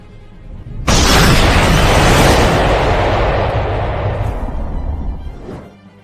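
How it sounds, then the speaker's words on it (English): A huge Big Bang explosion effect hits suddenly after a moment of quiet, then a loud, dense roar rumbles on for several seconds before slowly fading. "the universe originated by a Big Bang on its own"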